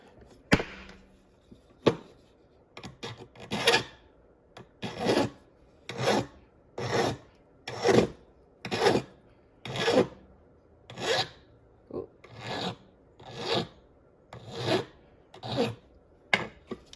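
A hand file rasps across a workpiece in a rhythmic series of about a dozen even back-and-forth strokes, close and crisp, with a few lighter scrapes at the start and no talking.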